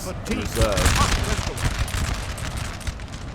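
Musket volleys crackle across a Napoleonic battlefield in the Napoleon Total War video game, near the Borodino centre, a dense ragged fusillade of overlapping shots rolling on steadily with battle noise and a voice talking over it.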